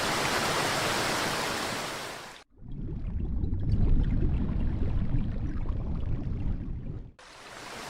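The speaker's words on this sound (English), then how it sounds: "The white waterfall pours down from the high cliffs." A white waterfall pours down from high cliffs in a dense, roaring rush of water. It plays as three separate takes: a bright hiss, then a deeper, heavier roar, then the hiss again, with no voices.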